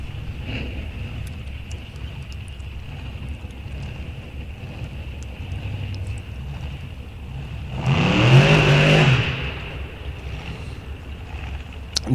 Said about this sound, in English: We got another licensing pass coming up. In the Dragster.